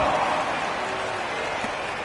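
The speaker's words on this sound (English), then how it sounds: "Give them a round of applause." Dense, steady roar of a large arena crowd clapping and cheering at a Detroit Pistons home basketball game, a continuous wash of applause filling a big space.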